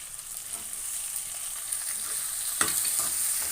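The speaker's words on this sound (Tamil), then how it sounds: "வெண்டைக்காய் நல்லா வதங்கட்டும்" Okra frying with onion and tomato in a pan for a tangy curry, a steady bright sizzle with light spatula stirring and a sharper scrape near the end, close and without talk.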